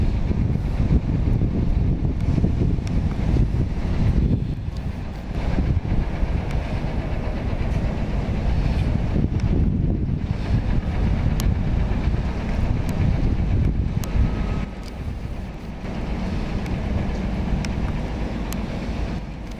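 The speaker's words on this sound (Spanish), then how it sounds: "sí que está haciendo un poquito de viento" Strong wind buffets the microphone outdoors at Madrid's Atocha commuter rail station during track works, a dense continuous low roar with brief dips, no voices.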